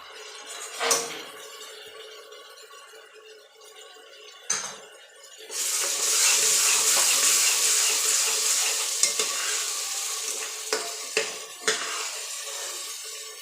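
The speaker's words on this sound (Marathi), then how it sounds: "लगेचच हे वाटण बी टाकून देऊया वाटण बी आपण जरा परतून घेऊया" A ground spice paste being sautéed in oil for a drumstick vegetable curry: a few sharp metal scrapes, then a loud, steady sizzle that starts partway through, broken by occasional spoon clinks against the pan.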